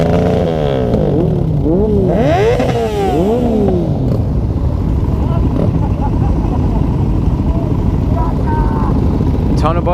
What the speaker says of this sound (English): Ton of bikes. It's probably the biggest group ride I've been on.